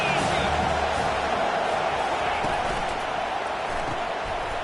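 Stadium crowd noise from an NCAA football video game, a steady loud roar of cheering with a brief whoop, running continuously under the commentary.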